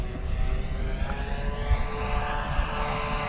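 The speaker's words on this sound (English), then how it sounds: "it's just a real graceful flying airplane" A Banana Hobby LX Models B-25 radio-controlled twin-engine model bomber with a 79-inch wingspan drones overhead, its propellers giving a steady, even whine that stays loud and constant over outdoor wind rumble.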